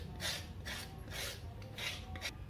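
A knife scrapes the rough skin off an elephant foot yam in about five rhythmic rasping strokes, quiet and close, with nothing else audible.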